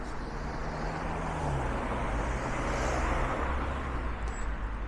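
Cars pass along a town street in a steady, broad rush of traffic noise, with engine rumble swelling as vehicles go by at close range and no talking.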